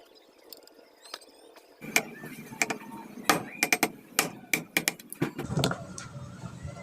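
A hammer drives a 6mm nail taken from a cable clip to punch holes in a used-oil burner: a string of sharp, close metallic strikes, irregular and picking up pace in the second half.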